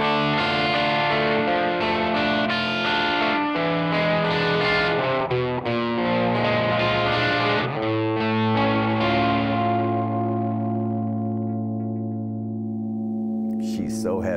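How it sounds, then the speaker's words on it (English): Heavy distorted electric guitar plays the arpeggio riff of a 1969 rock song, loud and continuous with chorus and effects, ringing out into a sustained chord at the end. "for riff number five, we have actually a series of arpeggios which are incredible, and this thing is extremely heavy"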